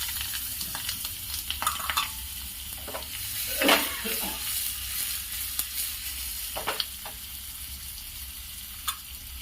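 Onion and dried chilies with mustard seeds and curry leaves sizzle in hot oil, a moderate crackling fry broken by scattered pops and a few stirring scrapes, close and steady, with no talking.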